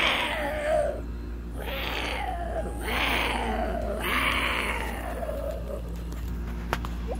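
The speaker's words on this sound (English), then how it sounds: "here comes that cat again" Cat from the Goof Troop video game, a series of four loud drawn-out yowls falling in pitch, followed by a quieter tail and a faint click over a steady low game hum.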